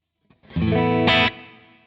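A distorted electric guitar chord rings out with effects and decays into a reverb tail, the high end dulled by shelving EQ, with a brief brighter burst partway through.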